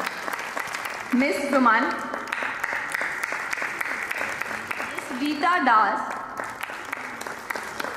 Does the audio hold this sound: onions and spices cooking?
no